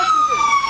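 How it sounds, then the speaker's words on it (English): A brief snatch of a Houston police car siren wailing loud and close, with a sustained high tone. "Turn off the sirens."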